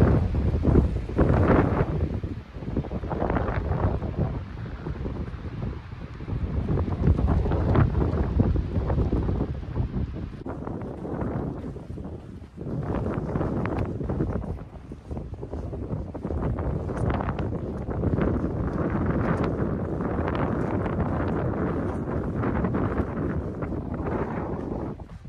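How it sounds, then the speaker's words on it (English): Gusty wind blowing near Purple Lake along the John Muir Trail, a loud, steady rush buffeting the microphone in surges throughout, with no voices. "Not quite as windy down by Purple Lake."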